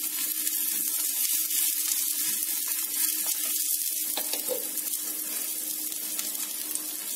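Ragi dosa fries in oil on a pan with a steady, close, bright hiss that holds unbroken and fairly loud throughout, dotted with tiny pops.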